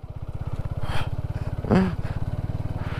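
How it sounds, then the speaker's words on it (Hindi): A motorcycle slips and struggles through fresh rain-soaked mud on a high-altitude mountain road, its engine thumping in a steady rapid pulse close by, with brief revs and a short voice cutting in. "बाइक रपट रही है कभी इधर कभी इधर"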